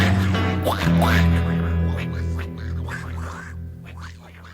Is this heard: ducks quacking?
yes